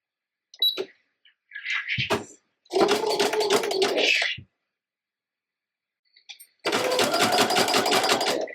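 A sewing machine runs zigzag stitches along a fabric edge in two loud, rapid mechanical bursts, the second longer, separated by a silent pause, with a few small clicks and rustles of handling beforehand.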